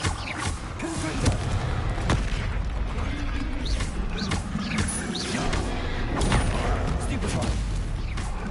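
Blasting spells and combat in the video game Hogwarts Legacy, including the Confringo spell, give a run of sharp booms and thuds under near-constant speech.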